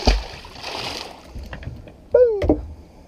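A released catfish splashes back into lake water with a sharp burst, followed by softer sloshing and a brief tonal call or voice near the end.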